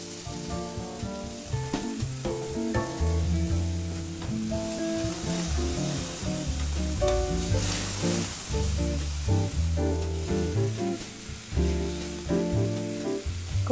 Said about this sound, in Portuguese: Enquanto o cogumelo refoga, você vai virar o filé para que ele sele por igual por todos os lados.